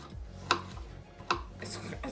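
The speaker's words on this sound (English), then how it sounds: "It's literally 10 seconds for me to finish chopping these." A knife chops food on a kitchen board while a baked stuffed salmon is being prepared, with two distinct, fairly quiet cuts about a second apart and a softer scrape after them.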